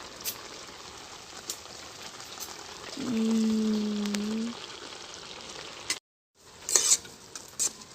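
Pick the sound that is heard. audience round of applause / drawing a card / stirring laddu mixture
stirring laddu mixture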